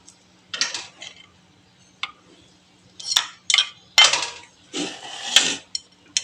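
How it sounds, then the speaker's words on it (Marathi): A spoon stirs a spiced corn patty filling of salt, byadgi chilli powder and coriander in a metal bowl, giving close, irregular bursts of clinking and scraping with brief quiet gaps between strokes. "हे छान मिक्स करून घेऊया।"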